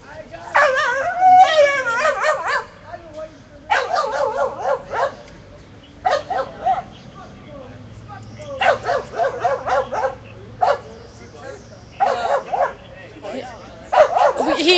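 A dog at an outdoor street protest on Skid Row barks, yips and whimpers in repeated bursts throughout, close and loud, with people talking in the background.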